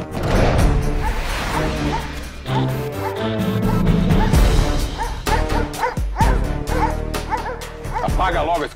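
A dog barks and yips repeatedly, close and loud, with whimpering between barks and people talking over it.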